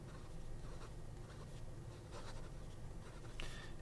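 Faint, close scratching of an Omas Bologna fountain pen with a steel section and soft 14 karat medium nib moving across paper in short strokes, quiet and without voices.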